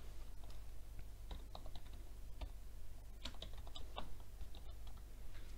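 Soft, quiet keystrokes tapping on a computer keyboard in irregular bursts, with a low steady hum underneath.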